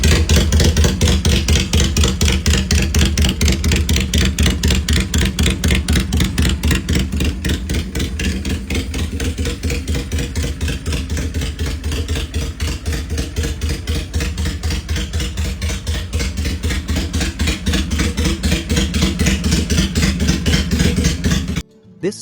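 A 2000 Honda Shadow custom motorcycle engine runs steadily, a loud, close, rapid low-pitched thump that holds an even idle throughout before cutting off at the end.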